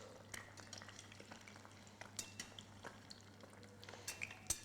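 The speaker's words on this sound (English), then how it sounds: "as it goes into the oil is a very gentle hiss" An egg fries in oil with a faint, gentle hiss and scattered small crackles and pops, quiet and close, with a few light metallic utensil clinks.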